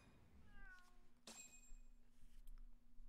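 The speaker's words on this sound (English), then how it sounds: "Meow. Meow." A cat in the video game Judgment gives a couple of short, faint meows, with a thin, steady electronic hum underneath and a quiet background.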